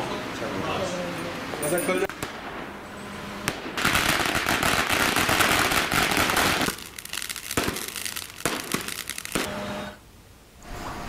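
Firecrackers burst in loud, sharp crackling volleys at a family celebration welcoming a newborn girl in Jharkhand, with irregular bursts and popping spread across the scene and voices in the background.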